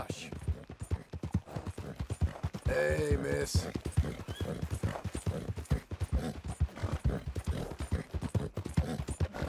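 Horse hooves clip-clop in a steady rapid rhythm through a Red Dead Redemption bounty-hunting scene, close and continuous under a man's and a woman's dialogue, with a brief musical sting midway.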